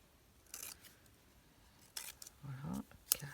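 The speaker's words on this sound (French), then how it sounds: "Et je vais les recouper avec mes ciseaux." Scissors snip paper while trimming small craft cards into squares, a few crisp, quiet cuts scattered at irregular intervals with light rustling between them.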